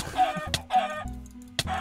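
A chicken clucks in the Minecraft-based game Wynncraft, with short repeated clucks and a couple of sharp hits over steady game background sound.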